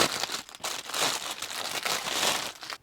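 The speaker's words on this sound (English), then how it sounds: "Comes nicely wrapped in a sealed plastic bag." A cabin air filter for a Ford F-series truck is handled inside a sealed plastic bag, giving close, soft crinkling and rustling in several bursts with no talk.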